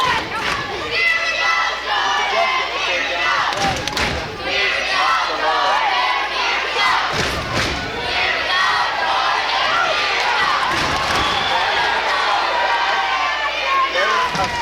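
A crowd in a gym at a school wrestling match yells and cheers steadily, with shouts, thuds on the mat and bursts of louder noise. Voices talk over the din.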